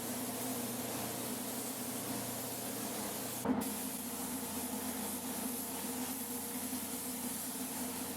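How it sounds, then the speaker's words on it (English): Steady, broadband hiss of an Iwata LPH 400 spray gun with an LVX base coat tip laying down a Glazzer orientation coat, continuous and close for the whole stretch, with one brief bump midway and no talk. "let me show you what I'm spraying with right now. It's my Iwata LPH 400 with the LVX base coat tip on it"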